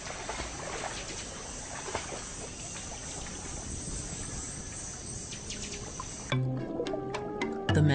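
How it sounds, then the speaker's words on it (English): A dense night chorus of frogs and insects by a low river in a flooded forest: constant shrill chirping and trilling that holds steady, then cuts off sharply near the end. "serenaded by a chorus of frogs and insects"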